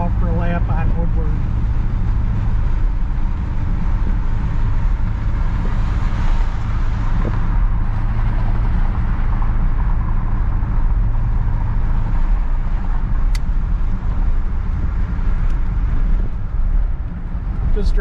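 A 1959 Chevy Bel Air cruising through neighborhood streets, its engine a steady low rumble throughout with road and cabin noise, while someone talks over it.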